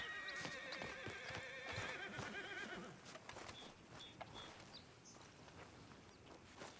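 A horse in Red Dead Redemption 2 gives a loud, shrill whinny, then hooves clip-clop in a steady walking rhythm, heard faintly in the game world.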